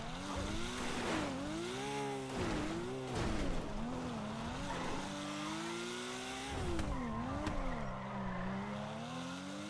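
A fast German car accelerates hard, its engine rising and falling through several revs while the tires squeal, close and loud throughout.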